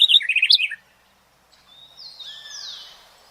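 Birds call loudly and close, first a rapid burst of chirps, then after a short pause a longer whistled, sliding call that fades out.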